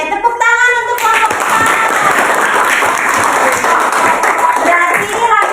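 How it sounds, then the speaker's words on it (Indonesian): Classroom applause for a student group, a steady wash of many hands clapping for several seconds, close and fairly loud, with a few voices mixed in near the start. "tepuk tangan untuk kelompok"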